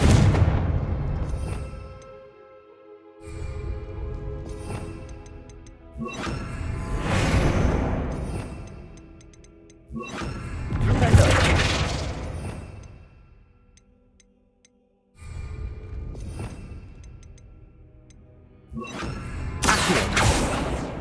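Confringo blasting spells go off in the Hogwarts Legacy video game, several loud bursts arriving in separate waves with crackling, ringing debris tails and short lulls between them.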